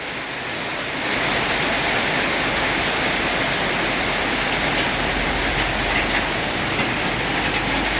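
Heavy rain pours down steadily outdoors in Thailand, a dense, loud, continuous hiss of downpour that swells after the first second and holds without pause.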